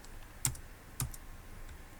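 Two distinct, soft computer keyboard key clicks about half a second apart as CSS code is typed, close and quiet with no voice.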